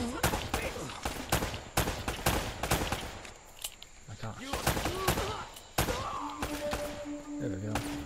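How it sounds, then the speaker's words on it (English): Repeated gunfire in the video game Uncharted: Drake's Fortune, loud sharp bursts in quick irregular volleys across the whole stretch, with a voice speaking briefly in between. "Oh, I hear gunshots."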